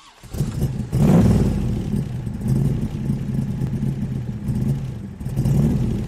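A used motorcycle's engine idles steadily after a brief rev at start-up, a loud, close, low mechanical rumble that fluctuates slightly, then cuts out at the end.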